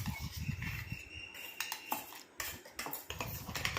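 A metal spoon scrapes freshly ground paste out of a mixer grinder jar, made for a natural hair-blackening treatment, giving close, irregular scraping and light clinks against the jar.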